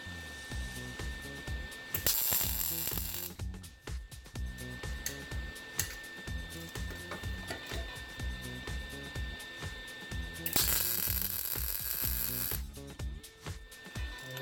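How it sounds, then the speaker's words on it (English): An electric welder buzzes and crackles while tack welding a lower control arm for a Mazda B2200 pickup, two long bright bursts over a steady droning hum, close and moderately loud, no voices. "let me turn the welder off so you can hear me some more"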